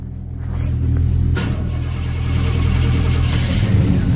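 A classic car engine idles steadily after a cold start with the choke just closed, giving a close, loud, even rumble with a slight swell in revs partway through.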